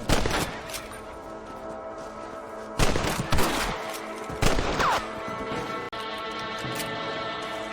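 Rifle shots ring out while hunting rabbits in the video game Red Dead Redemption, several sharp loud cracks with ringing tails in separate bursts over a steady outdoor game ambience and music, no talk.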